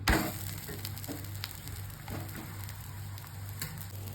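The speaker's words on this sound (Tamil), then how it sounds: "வெங்காயம், பச்சை மிளகாய், கருவேப்பிலை எல்லாம் போட்டு கோவம் தோசை ஊற்றிட்டு இருக்கேன்" Dosa batter with onion, green chilli and curry leaves fries on a hot pan, giving a soft, steady, faint sizzle with a low hum underneath.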